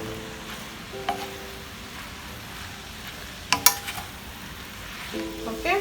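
Hakka chow noodles with greens sizzle steadily in a pan, broken up by a few sharp clanks and scrapes of stirring near the middle and at the end.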